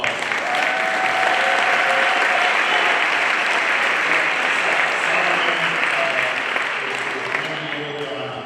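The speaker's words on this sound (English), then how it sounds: "I give him a round of applause" A long round of applause from a breakfast crowd honoring a high school principal at a commemorative MLK event, steady and dense throughout, with voices faintly audible beneath.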